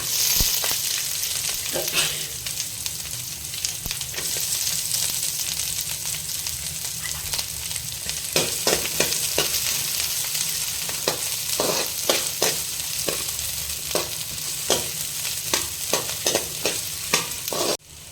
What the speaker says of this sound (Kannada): ಈಗ ಸ್ವಲ್ಪ ಈರುಳ್ಳಿ ಫ್ರೈ ಆಗಾದ್ಮೇಲೆ ಅನ್ನನ ಹಾಕೊಳ್ಳೋಣ.